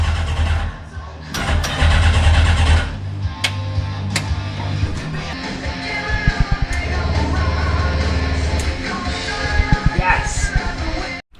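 A 1200cc Thunder Roadster race car engine cranks and fires up close by in a garage, loud and uneven, sputtering and catching in bursts with a few sharp revs before cutting off.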